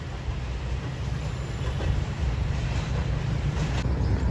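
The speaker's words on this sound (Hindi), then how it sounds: "तो आखिरकार आ चुकी है हमारी 151 up Shah Latif HGM 30R की क़यादत में मलिर कॉलोनी रेलवे स्टेशन पहुंच रही है" Passenger train 151 Up Shah Latif, hauled by an HGM 30R locomotive, pulling into Malir Colony railway station: a steady loud low rumble of engine and rolling wagons, dense and continuous throughout with no voices.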